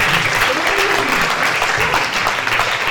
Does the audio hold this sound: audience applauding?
yes